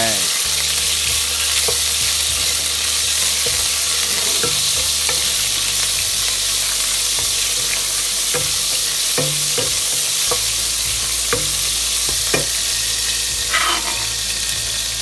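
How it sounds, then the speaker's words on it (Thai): Thai-style pork belly frying in reused oil with ingredients added, a loud, continuous close sizzle punctuated by irregular clicks and scrapes of stirring, with no talking. "หลัยจากนี้เราก็ใช้น้ำมันเก่านี่ครับในการ เอาหมูลงไปครับผม"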